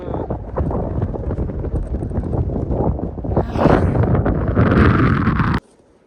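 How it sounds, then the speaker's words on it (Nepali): Strong wind on a mountain trail toward Tilicho Lake, Nepal, buffets and roars across the microphone in heavy continuous gusts, growing louder partway through before cutting off abruptly. "डेन्जर हावा चलिरहेछ"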